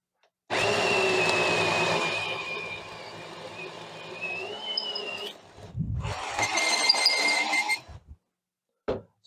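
A Hart HPID01VN 1/2-inch 20V cordless impact driver runs at speed setting 1, giving a loud sustained whine for several seconds, a short pause, then a second burst before it stops.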